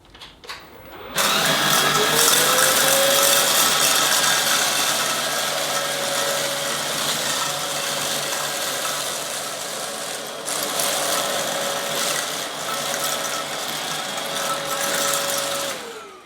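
A Samsung Powerstick Pro VS8000 cordless stick vacuum starts up and runs on its standard suction setting, giving a loud, steady whirring whine that holds for about fifteen seconds before winding down.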